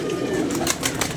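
Pigeons kept by a Punjabi pigeon-flying hobbyist coo softly in a short outdoor stretch, with faint flapping and rustle nearby and a voice murmuring in the background.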